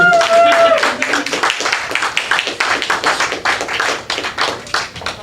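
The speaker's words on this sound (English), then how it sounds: "One more time for Brian, everybody. Clap it up for him." An audience claps for a comedian at an open mic in a small gallery venue, a few dozen quick close hand claps in an uneven rhythm, loud at first and gradually thinning, with a voice talking over the start.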